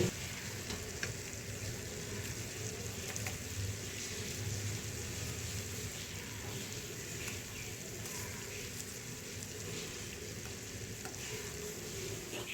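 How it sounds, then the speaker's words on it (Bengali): Ghee poured onto hot charcoal for smoky chicken curry gives a steady, dense sizzle and crackle, continuous and close throughout with no talking. "এবারে আমি একটু এই কয়লার মধ্যে ঘি দিয়ে দেব"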